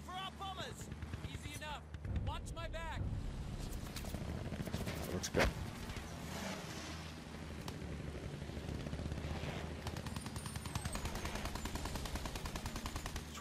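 Rockets launched from an aircraft in the video game Battlefield 1, heard as rapid bursts of gunfire and explosions over a steady engine drone, with voices talking through the action.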